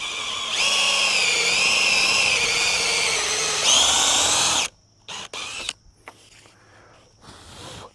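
A power drill whines steadily as its bit bores a hole for about four seconds, pitch rising briefly before it stops, followed by a few quiet handling clicks during the build of a portable goat shelter.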